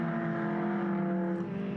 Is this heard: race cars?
yes